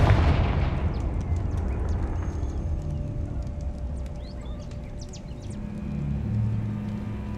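A Confringo fire spell from Hogwarts Legacy goes off as a loud, booming blast that fades over several seconds, with crackling debris and rumbling aftermath in the background.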